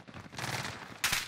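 Gunfire in Call of Duty Warzone: a dense, muffled burst of rapid shots followed by a sharper, louder crack near the end, brief and without speech.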